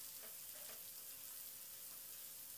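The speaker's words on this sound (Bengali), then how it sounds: "এবার ডিমটা দিয়ে নাড়াচাড়া করে ডিমটাকে একটু টুকরো টুকরো করে নেব।" Egg is stirred and broken up in a frying pan with cauliflower and potato. A very faint, steady sizzle runs throughout, with soft stirring touches and no voices.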